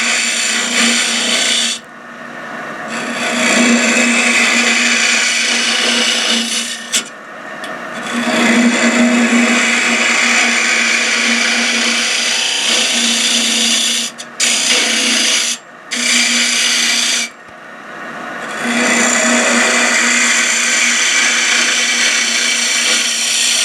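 A Hope 6mm Pro carbide woodturning tool cuts into wood spinning on a lathe, giving a loud, continuous rasping scrape with a steady hum beneath it, broken by several short pauses as the cutter lifts off the workpiece.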